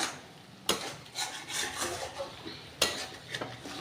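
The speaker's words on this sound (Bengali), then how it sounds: "আমি কিন্তু কমিয়ে কমিয়ে এখন নাড়া দিচ্ছি।" Chicken kosha, a dry chicken curry cooked without water, stirred in a pan, with a spoon scraping and clinking against the metal in a steady back-and-forth rhythm, close and moderately loud, with a faint sizzle underneath.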